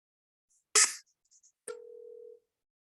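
Telephone tones on an outgoing call: a short burst of noise, a couple of faint blips, then a single steady dial tone lasting under a second, all quiet and isolated.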